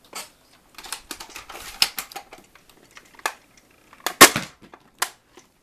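A Nerf Defender T3 blaster fires test shots, giving sharp close snaps and clacks in irregular clusters, with several quick mechanical clicks between the louder pops.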